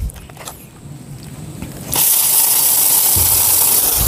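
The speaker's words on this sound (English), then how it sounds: "you can see the water is powering the spoon here, and this is how the spoons rotate" A water jet drives a homemade Pelton turbine made of spoons; a quiet mechanical rattle gives way to a sudden loud, steady rushing gush of spraying water that continues to the end.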